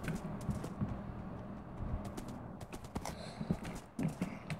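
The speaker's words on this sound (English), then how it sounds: "Does running and sprinting with your horse makes you go faster?" Horse hooves clip-clop in the Minecraft video game: quick, light, irregular taps near the listener over faint background noise.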